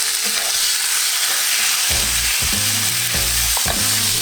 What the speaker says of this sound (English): Now you're going to add your 100 grams of liver.